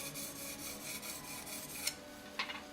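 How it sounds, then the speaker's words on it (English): A plane iron is rubbed back and forth across a sharpening stone in steady, close strokes, making a soft continuous scraping with a brighter grind near the end, no voices. "Use the whole stone, tip up, and get those little outer corners."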